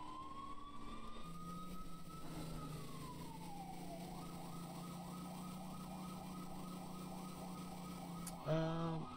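A PA-300 electronic siren in the video game EmergeNYC wails, rising and falling, then shifts into a rapid yelp cycle, ending with a sharp horn-like blast at the finish.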